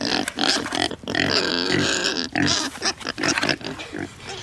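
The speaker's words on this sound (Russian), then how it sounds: "Почему свинок зовут Люси" Pigs grunt and snort up close in a village in the Perm taiga, a rapid series of loud, rough, throaty grunts broken by short pauses.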